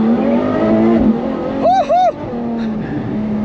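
A Ferrari F12 TdF engine hums along in first and second gear, then briefly revs up twice in quick bursts at partial throttle before settling back to a steady drone.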